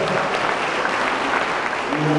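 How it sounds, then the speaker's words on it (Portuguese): Steady, dense applause from a church congregation fills the space, a continuous wash of clapping with a faint voice underneath. "Vamos aplaudir o nosso irmão"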